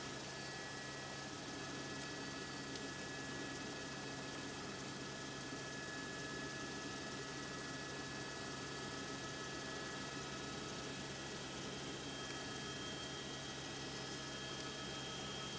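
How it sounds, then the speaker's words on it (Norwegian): Steady, even drone of an aircraft engine in flight on approach to Haugesund Airport on Karmøy, Norway, a constant broadband roar with a faint hum running unchanged throughout, no voices. "Harald Hårfagre sin gard, før vi skal lande på Karmøy, Haugesund lufthavn."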